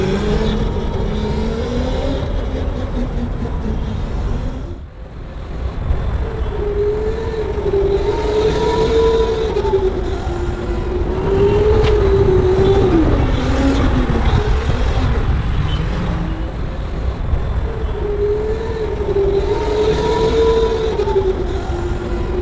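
Go-kart engines drone and whine on an indoor track at a Gurgaon mall, loud and continuous, the pitch rising and falling with acceleration and briefly dipping once.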